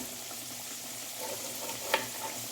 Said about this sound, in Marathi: आपले बटाटे फ्राय होत आहेत